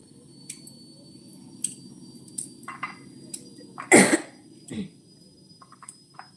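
A single sharp cough stands out near the middle against a quiet background, with a few smaller clicks and breaths scattered around it.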